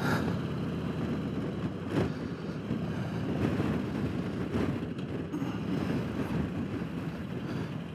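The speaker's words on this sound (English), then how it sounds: "Oh, it's windy today, 20 miles an hour." Strong wind buffets the microphone while riding on a windy day, a continuous loud roaring rush with occasional gusts and no talking.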